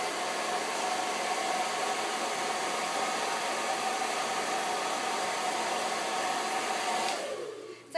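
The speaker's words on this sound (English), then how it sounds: "So I just take my blow dryer." A blow dryer runs at a constant roar for several seconds, close and steady, heating an eyelash curler, then switches off abruptly near the end.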